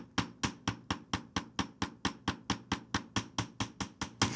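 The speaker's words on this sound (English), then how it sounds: "another thing I like to do when I'm hammering is come around the edge" A hammer strikes the curved edge of a square wire pendant, about two sharp metallic taps per second in a steady, even rhythm, close and fairly loud with no talking.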